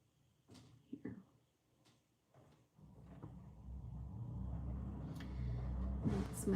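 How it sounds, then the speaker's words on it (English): A garage door runs just below the room, a low rumbling drone that starts after a few faint knocks and clicks and grows steadily louder to the end. "That's my garage door, just right below me."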